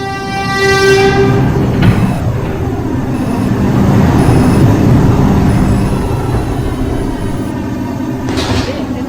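A Manhattan-bound R142 5 local subway train arrives at Morris Park station in New York City. A brief horn tone sounds at the start over a loud, steady rail rumble and rolling wheel noise that continues throughout.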